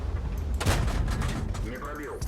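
A tank cannon in World of Tanks fires a single booming shot up close, followed by rumbling mechanical noise, with a voice talking faintly over it.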